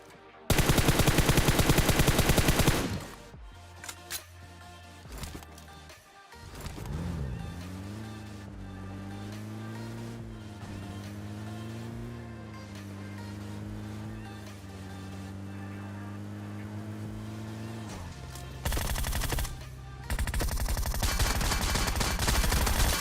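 Groza rifle fire in the battle royale game PUBG Mobile bursts loudly at the start and again near the end, with a vehicle engine droning steadily in between.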